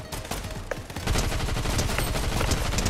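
Rapid gunfire crackles through a shooter video game, with bursts of automatic fire that build into a dense, loud, sustained barrage after a second of scattered shots.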